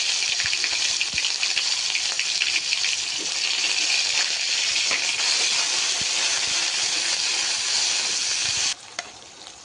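Cinnamon, bay leaves and onion frying in hot oil for a spicy prawn curry, a steady loud sizzling hiss that carries on unbroken and then drops off sharply near the end, no voices.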